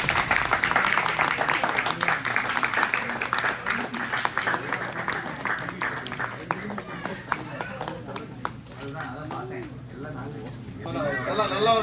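An audience at a Samayal Star cooking contest presentation gives dense, sustained applause that thins out toward the end, with people talking over it.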